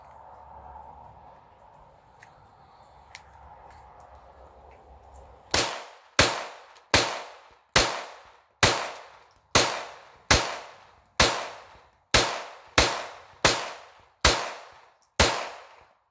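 Sharp .22 pistol shots from a Retay RXP22 loaded with cheap ammunition, about fourteen evenly paced reports crack one after another, loud and close, after several seconds of quiet outdoor background.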